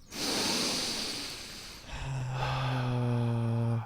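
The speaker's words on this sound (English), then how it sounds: "So just deep breaths" A person doing a calming breathing exercise takes one long, airy inhale close to the mic, then lets out a slow exhale that turns into a steady voiced hum, with no talking.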